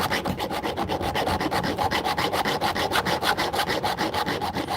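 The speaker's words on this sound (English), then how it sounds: "I sharpen it with files" A hand file rasps along the teeth of an electric chainsaw's chain, a steady back-and-forth scraping repeated rapidly and evenly for several seconds, close up and without speech.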